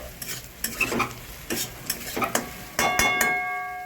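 Chicken and scrambled egg stirred in a frying pan for chicken fried rice, a steady sizzle broken by repeated scraping strokes of the spatula, close and fairly loud, with a brief tonal ring near the end.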